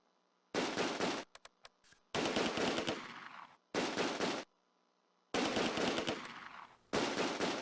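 Machine gun fire in the World War II strategy game Close Combat: A Bridge Too Far, a town fight around a bridge, coming as several loud, sustained rattling bursts split by short silences and a few single shots.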